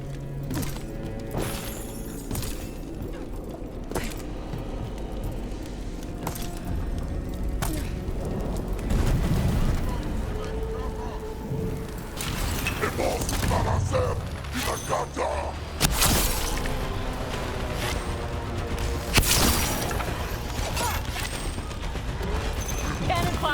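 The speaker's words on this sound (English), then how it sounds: "Cannon fire! Get clear!" Cannon fire during a battle in Dragon Age: The Veilguard, with repeated heavy booms, crashes and mechanical clatter striking irregularly through a noisy fight, mixed with shouted voices.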